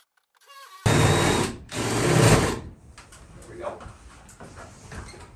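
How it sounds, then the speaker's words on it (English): A power drill bores a hole through a roof for a solar fan wire, running in two loud close bursts with a brief pause between, then fading to quieter handling noise and faint talk. "I drilled a hole up for the wire to go through"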